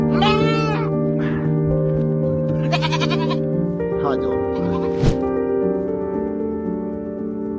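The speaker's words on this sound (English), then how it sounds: "this Turkish shepherd heard a cry for help and rescued a goat that got stuck in the rocks" A goat stuck in rocks bleats several times in wavering, nasal cries, close by, with other short calls and rustling between them.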